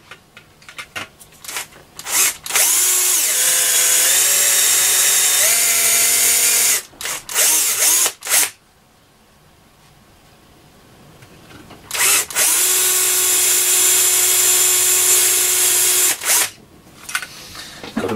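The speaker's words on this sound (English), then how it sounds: "I've got a drill that's bigger than the actual spindle, so as I'm drilling down through" A power drill whines loudly in two long bursts with short starts and stops between, grinding steadily down through the metal tuning capacitor spindle of a Roberts R747 radio, with a quiet pause in the middle.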